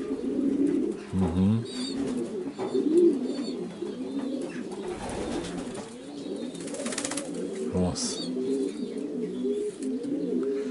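Racing pigeons in a breeding loft in Prahova, Romania, cooing in layered, overlapping throaty calls close by, with a few brief murmured words from people.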